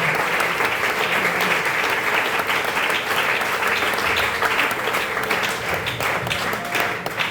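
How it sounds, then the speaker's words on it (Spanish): A church congregation applauds during a sermon, a dense, steady wash of clapping from many hands that stays loud and even for the whole stretch, with faint voices underneath. "Fuertes aplausos a la gloria y la gracia del Señor."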